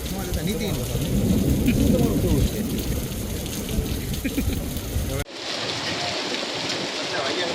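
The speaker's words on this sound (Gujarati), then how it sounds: "બરફના કરા સાથે વરસાદ વરસ્યો હતો" A dense, loud roar of rain and hail pounds down in Bhavnagar, then cuts to a thinner, hissing shower. A voice talks over it.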